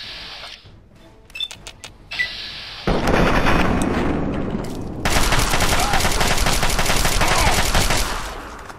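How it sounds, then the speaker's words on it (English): Turret gunfire in the Fallout 3 video game: rapid bursts of automatic shots, quieter at first with a few isolated cracks, then loud sustained firing that continues to the end. "there's turrets up there shooting at him"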